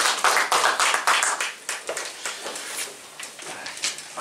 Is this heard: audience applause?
yes